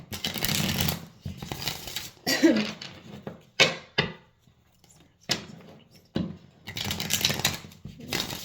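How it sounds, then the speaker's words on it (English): A deck of cards being shuffled by hand during a card reading: several quick riffling bursts separated by short pauses, close and fairly quiet, with occasional faint voice sounds between them. "let's shuffle again"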